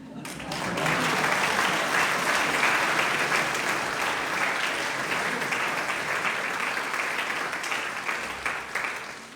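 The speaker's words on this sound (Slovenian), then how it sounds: "hvala za aplavz" Audience at a folk dance group's spring concert in Dornava breaks into sustained applause, thick and even, swelling in after a quiet start and carrying on for several seconds before thinning slightly near the end.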